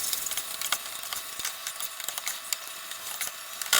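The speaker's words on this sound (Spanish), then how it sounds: "Y de nueva cuenta revolver." A lasagne mixture is stirred in a bowl at close range, with repeated soft scraping and wet clicking strokes in an irregular rhythm and no voices.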